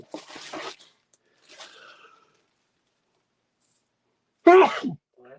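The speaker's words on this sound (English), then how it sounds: "Making me sneeze." A sharp, loud single sneeze bursts out near the end, after a few seconds of faint rustling and near silence.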